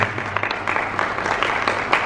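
Audience applause at a Côte d'Ivoire restaurant awards announcement event, steady dense clapping that carries on for the whole moment with a few louder claps standing out.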